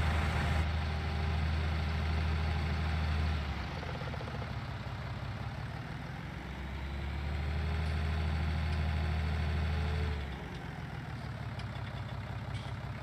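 Tractor engine in a farming video game, a steady low rumble that idles, then swells as it drives, drops back and rises again before settling, heard alone with no talk.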